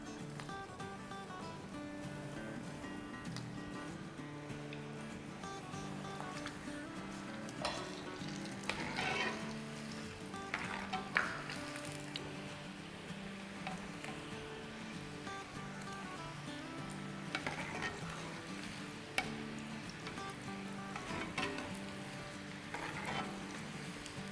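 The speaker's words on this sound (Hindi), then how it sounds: "तेल हमारा गरम है, बहुत गरम नहीं होना चाहिए, मीडियम लो पर है। तो अब हम अपने समोसे डालते हैं" Baby aloo samosas frying in hot oil over medium-low heat, a steady, dense sizzle and crackle that runs unbroken throughout, with no talking.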